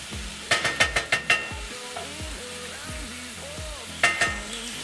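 Sausage, onions and garlic frying in olive oil in a skillet make a steady close sizzle under a run of sharp rhythmic clanks from a utensil striking the pan, followed by quieter stirring and a final pair of knocks.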